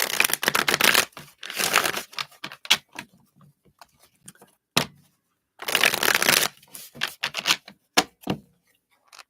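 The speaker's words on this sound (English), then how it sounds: "let me give these a shuffle here." A deck of reading cards is shuffled in two long riffling bursts separated by sparse clicks and taps, crisp and close with no talking.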